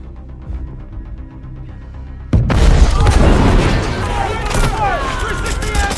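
After a quiet dramatic music bed, a sudden loud explosion booms, followed by a roaring rumble and debris clatter under a speaking voice.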